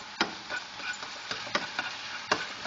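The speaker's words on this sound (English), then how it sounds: "It's just a little bit of that chili," Chili stir-fries in a pan for a quick noodle dish with green choy sum, a close, soft sizzle broken by sharp scraping stirs at an uneven rhythm, with no talking.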